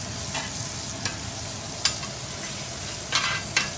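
Mushrooms and asparagus sizzle on a grill, a soft, even crackle with a few sharp clicks and taps as pieces are turned. No one speaks.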